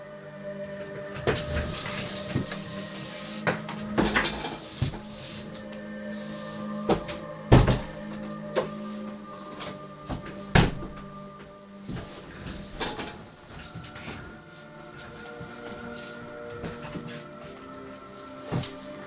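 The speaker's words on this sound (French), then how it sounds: "Désolé pour le bruit de porte derrière moi" Doors and cupboards bang and slide in a room during a Skyrim game demonstration, a series of sharp knocks and clatters scattered irregularly over a low background, moderately near, no talking.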